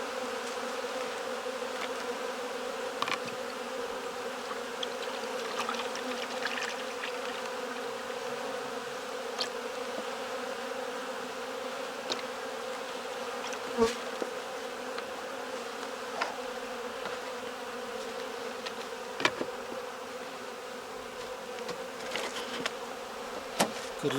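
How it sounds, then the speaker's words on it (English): Steady, dense buzzing of many honey bees at an opened hive, a continuous hum with occasional louder passes close by. "Don't want to squash any bees."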